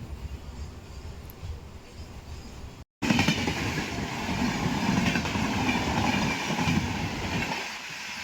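A MEMU passenger train on the Vijayawada–Rajahmundry line rumbles along the rails with a steady, close roar. After a brief gap the noise returns louder with rhythmic wheel clatter, easing near the end.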